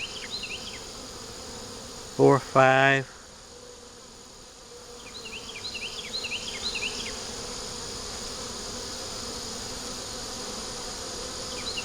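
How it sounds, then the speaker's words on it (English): Bee caught in a beetle trap, a soft continuous insect buzz under steady background hum, broken early by a brief loud rattling burst, with a voice counting briefly. "Looks like it caught a bee."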